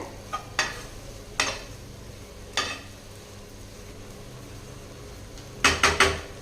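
A spoon stirring bottle gourd egg masala in a pan, with several sharp scraping clacks against the metal, a few spaced apart and a quick cluster near the end, over a faint sizzle.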